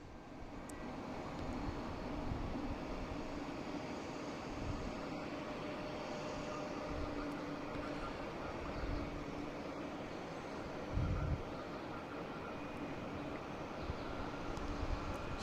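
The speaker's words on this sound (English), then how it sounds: "Now we got Aer Lingus heading to Shannon. Shannon Mark flight 134 and A321neo." An Aer Lingus A321neo jet departing Boston Logan for Shannon produces a low, continuous, fairly faint engine roar that holds steady throughout, with only a brief bump in level near the end and no talking.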